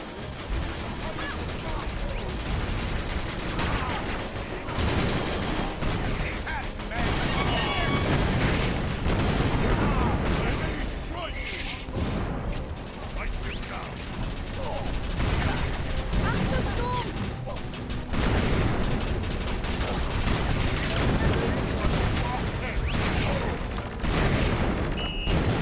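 Heavy gunfire from a gunship in the GameCube video game Battalion Wars, dense mechanical rattling mixed with booming shots and explosions, sustained and loud throughout, with voices talking in the mix.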